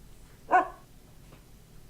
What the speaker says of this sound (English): A singular bark to let you know you're playing a game about dogs